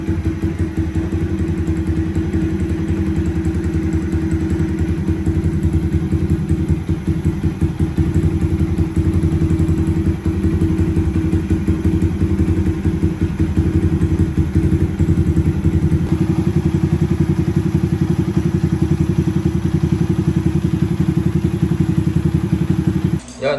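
A motorcycle engine runs steadily throughout, with a continuous low rumble and faint clattering thuds, close and loud, with no talking.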